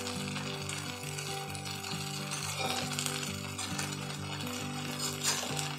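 Wheat flour batter sizzling on a new cast-iron tawa being seasoned, a steady close frying hiss with an occasional faint clink, under background music.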